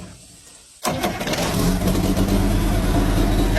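Old car engine, started by touching a wire to the hot terminal, catches after a quiet moment with a sudden burst, then keeps running and revving loudly and steadily nearby, with faint voices underneath.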